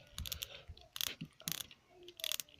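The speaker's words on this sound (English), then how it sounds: "on a nice clicky-clacky ratchet" Ratchet joint on an Exo Squad exosuit action figure clicking in several quick bursts of sharp, close plastic clicks separated by short pauses, with no voices.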